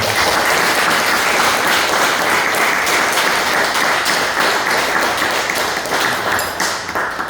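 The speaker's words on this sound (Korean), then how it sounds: "교우님들 박수 한번 좀 보내주십시오." Church congregation applauding for fellow members in a Korean worship service, a steady, dense wash of many hands clapping close by that holds for about seven seconds before thinning slightly at the end.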